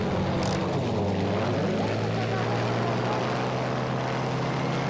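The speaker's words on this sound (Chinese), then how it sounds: "刚刚飞过去的都是轰炸机" Bomber aircraft sweep past in the World War II shooter Battlefield V, heard from a BF 109 G6 fighter cockpit: a steady propeller-engine drone with a low, sustained tone that holds throughout, loud and close.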